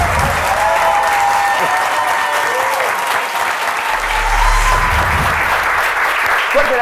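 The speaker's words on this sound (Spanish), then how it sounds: "Fuerte el aplauso." A studio audience at an Argentine talk show bursts into loud, sustained applause, dense clapping filling the room steadily from start to finish, with crowd noise blending in.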